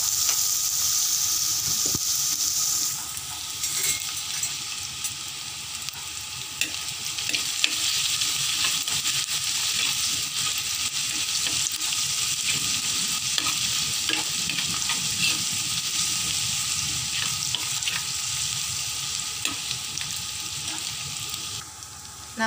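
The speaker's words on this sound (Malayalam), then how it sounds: "നമ്മുടെ ഇഞ്ചി വെളുത്തുള്ളി ചെറുതായിട്ട് മൂത്ത് വരുന്നുണ്ട്." Ginger and garlic fry in oil in a pan for a Kerala-style fish curry and are stirred, giving a steady, loud, close sizzle with faint scraping stirs throughout and no talking.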